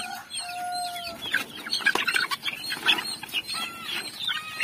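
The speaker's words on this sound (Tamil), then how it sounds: "கோழிகள் எடுத்து எடுத்து வாயில் வச்சு வச்சு பார்த்துட்டு கீழே மேலேயும் கொட்டுறாங்க" Chickens cluck and squawk while pecking at a feed of rice mixed with finely chopped cabbage, with overlapping calls close by and a faint crow, and no talking.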